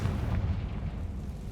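A Confringo spell blast from the Hogwarts Legacy video game erupts as a deep, rumbling explosion that holds steady and loud for about a second and a half, with no voices.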